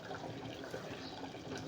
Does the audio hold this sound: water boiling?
yes